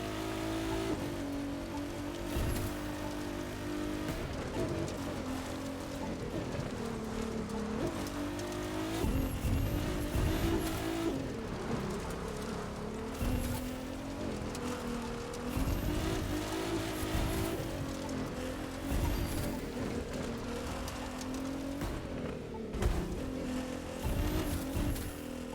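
A hypercar in The Crew 2 racing game roars continuously with surging, revving engine tones and occasional tire squeal, loud and close throughout, with no voices.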